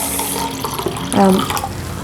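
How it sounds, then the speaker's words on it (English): Tap water pours into washed rice for a steamed rice cake, a close steady splashing stream that swells briefly midway, with no talk over it. "I'm going to add water."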